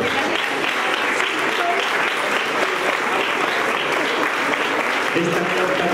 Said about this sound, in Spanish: El aplauso, por favor.